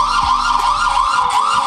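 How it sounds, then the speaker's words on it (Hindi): A loud electronic alarm siren from a wireless Wi-Fi CCTV security camera wails continuously at close range, its piercing tone wavering slightly up and down. "तो देखिए साइरन बज रहा है, इसको ऑफ करना पड़ेगा।"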